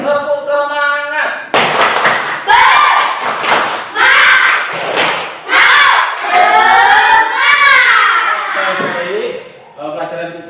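Primary schoolchildren in an Indonesian classroom doing a rhythmic spirit clap together, loud bursts of group clapping and shouted chanting in patterned beats, close and energetic, with a tonal voice at the start and end.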